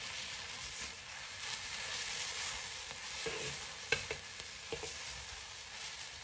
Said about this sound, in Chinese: 把大白菜翻炒入味，就可以出锅啦